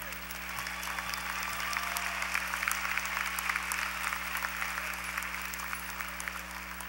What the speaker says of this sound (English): Let's applaud our College of Arts, Letters, and Sciences graduates.